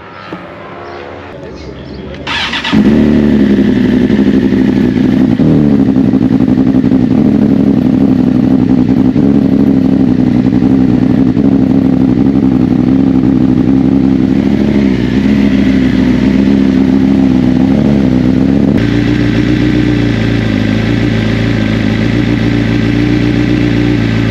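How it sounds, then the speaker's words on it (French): A tired motorcycle engine cranks briefly, catches and roars to life, then runs loudly and close with uneven revving and idling before the pitch drops near the end. "là on va tester la moto, voir si elle démarre ou pas"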